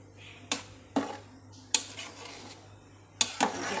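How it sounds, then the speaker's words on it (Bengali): A spoon stirs khichuri in a cooking pot on a home stove, giving four or five sharp metallic scrapes and clinks at irregular intervals over a low steady hum, without voices. "এবার একটু বেশ করে ঘেঁটে দিই।"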